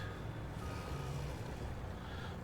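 A truck in Farming Simulator 22 reverses with its backup alarm beeping steadily over a low engine drone, fairly quiet and with no talk.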